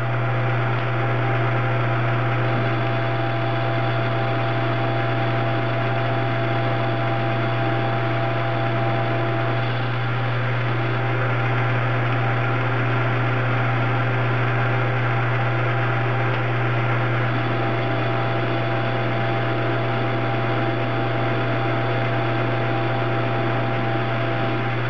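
Metal lathe running under power in gear, single-point cutting 28 TPI threads on a 0.750-inch muzzle brake: a steady, even motor hum and whine with constant tone throughout, no talking.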